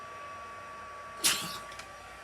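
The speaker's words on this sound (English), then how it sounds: "the warmer your heat gun is, it usually doesn't take as long as the first one" A heat gun blows hot air onto stamped embossing for a balloon-themed card, giving a steady whirring hiss with a thin whine. A brief clatter cuts in about midway, and there is no talking.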